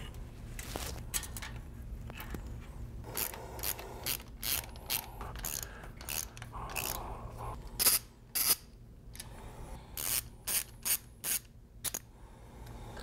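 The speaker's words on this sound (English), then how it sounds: "I'll need to remove the two outer Tappet Block bolts as well as the two inner. Use a ball Allen to gain access." Metal ratcheting and clicking from a ball-end Allen wrench backing out tappet block bolts on a motorcycle engine, close and fairly quiet, with several short sharp bursts of clicks toward the end and no talk.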